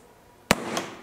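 A single sharp gunshot fired through a pillow used as a makeshift silencer, one loud close crack followed by a short decaying tail and a faint secondary thump.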